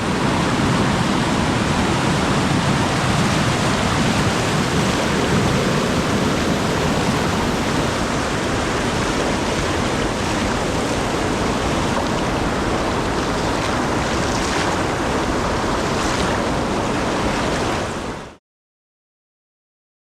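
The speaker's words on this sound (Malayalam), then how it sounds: "പാറക്കല്ലുകളിൽ ചിന്നിച്ചെതിറിയെത്തുന്ന വെള്ളത്തിൻ്റെ ഓളങ്ങൾ" River water rushing over rocks at Mamalakandam in Ernakulam, Kerala: a loud, dense, continuous roar of white water that fills the whole clip and then cuts off abruptly near the end.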